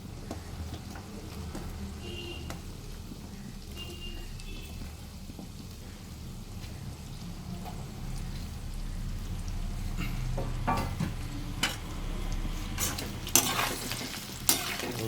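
Assamese-style pork dry fry with onions and tomatoes is stirred in a pan, giving a steady sizzle with scraping and occasional louder clanks of the utensil toward the end.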